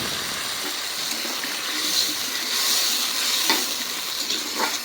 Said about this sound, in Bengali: মশলা কষানোর জন্য একটু পানি দিয়ে দেই।